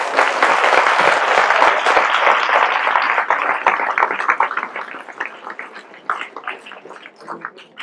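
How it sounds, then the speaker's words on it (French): Audience applause for speakers at a French local-initiatives conference, a dense, loud round of clapping that thins out into scattered individual claps over the last few seconds. "Je pense qu'on peut les applaudir à nouveau."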